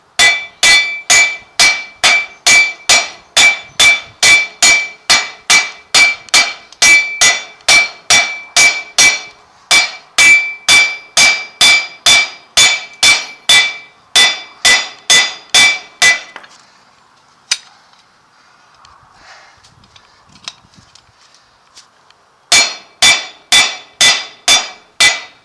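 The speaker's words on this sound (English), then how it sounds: "let's tap this on enough to get the nut on, and we can tighten it up" A hammer strikes a carrier bearing onto a driveshaft in a steady run of loud, sharp metallic blows, roughly two per second, pausing briefly near the end before a final burst of taps.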